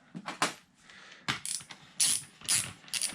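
A ratchet tightens a bolt on a TC450 motorcycle fork during a fork seal change, giving short, quiet bursts of clicking in an uneven rhythm.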